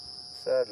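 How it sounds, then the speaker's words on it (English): A cricket calls at night during an evening wildlife drive, a steady high-pitched trill heard throughout while someone speaks over it. "the sound that you're hearing is a cricket"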